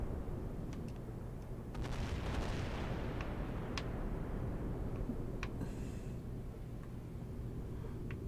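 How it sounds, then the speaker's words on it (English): Ship guns firing in the naval combat game Battlestations Pacific; a run of deep booming shots and sharp cracks, some overlapping, under a continuous low rumble of battle noise. "What is going on with that ship? It's just shooting randomly all over the map here."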